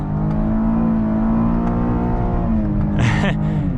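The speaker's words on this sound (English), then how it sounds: "It's pretty peppy, I will say, for being just the normal V6. Full throttle." A 2023 Cadillac XT5 Sport AWD Platinum with the standard V6 pulls at full throttle in manual mode, its steady engine drone loud and close from inside the cabin, with the pitch shifting slightly near the end.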